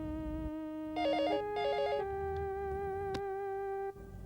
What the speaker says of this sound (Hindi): राखी बेटा, बेटा राखी, तुम्हारा फोन है